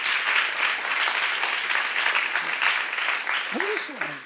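An audience at a church youth service claps together in a sustained, fairly close burst of applause that tapers slightly, with a voice briefly rising near the end.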